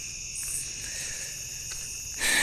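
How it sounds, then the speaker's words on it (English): Cicadas buzz in a loud, continuous high-pitched drone on a night hike toward the beach, a dense steady insect chorus swelling even louder at the very end, with no talking. "the cicadas are way louder than even my speaking voice, to where I'd nearly need to be shouting over them"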